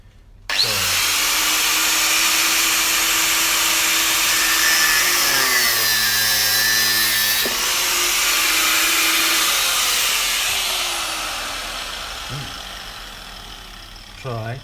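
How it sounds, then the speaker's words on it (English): Angle grinder cutting through stainless steel hose, a loud sustained high whine that starts abruptly, shifts pitch as the disc bites, then winds down, with talking partly over it. "You got a grinder, and you don't want to dawdle, you don't want to go slow and be like, oh, I'm going through the hose"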